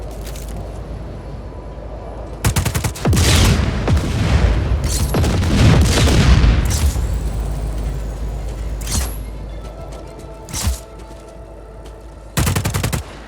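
A Blackhand service rifle with an underbarrel grenade launcher fires in a video game, loud bursts of rapid gunfire with heavy booming blasts. The firing trails off into quieter ambience, then a short final burst.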